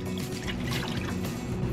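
Water is poured into a pan holding pumpkin and olive oil, a close, steady gushing splash that continues without pause for a couple of seconds.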